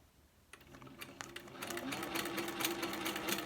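A sewing machine stitches a basket weave background fill, its fast, even whirring starting after a short quiet moment and growing steadily louder.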